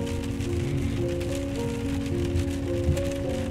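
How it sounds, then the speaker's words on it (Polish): Rain falls on a car while driving through Ukraine toward Kyiv, a steady patter under a low humming engine drone, with no talk. "przyjęła deszczem."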